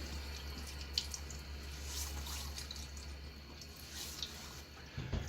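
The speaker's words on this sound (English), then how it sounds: "I'm going to get my face wet." A bathroom tap runs softly while a face is wetted before a shave with a 1936 Gillette Aristocrat safety razor, giving a faint continuous trickle with a few small splashes and no talk.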